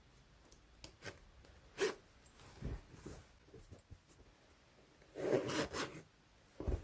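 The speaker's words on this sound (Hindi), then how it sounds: "ये ज़िप बिल्कुल ठीक बंद हो रही है।" A repaired clothing zipper is pulled closed in several short, raspy zipping strokes with soft fabric rustling between them, close up and fairly quiet.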